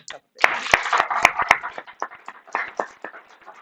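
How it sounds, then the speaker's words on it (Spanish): Scattered clapping from a small audience at a talk on toxics and environmental health, with uneven, sparse hand claps and a few sharp nearby claps, fairly close, with some murmuring voices mixed in. "Le damos un aplauso."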